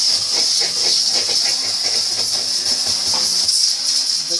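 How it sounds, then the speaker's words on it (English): A steam cleaner gives off a steady, continuous hiss that stays loud and unbroken from start to finish, with faint clatter and knocks underneath. "I think they have a steam cleaner"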